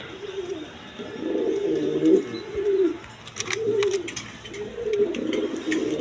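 A pair of king pigeons, one male and one female, giving repeated soft throaty coos in a steady rhythm, close by, with faint background noise and no clear speech.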